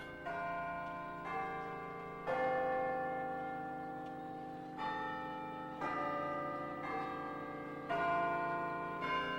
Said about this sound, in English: Come on, Isato! The chimes are ringing!